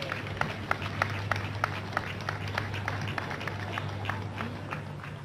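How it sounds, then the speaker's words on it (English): Rhythmic group clapping at a church service, steady beats repeating about every half second over a low hum and murmuring crowd. "Let's clap for Jesus as we watch"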